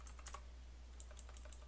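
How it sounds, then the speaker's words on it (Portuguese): Keystrokes on a computer keyboard while entering a search command in the Metasploit MSF console, a few quick clicks in small bursts, close and clear over a steady low hum with no talking. "basta digitar search"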